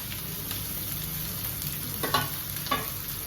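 Chopped onions sizzle in a hot oiled pan for upma, a steady frying hiss with a couple of brief stirring clatters close by.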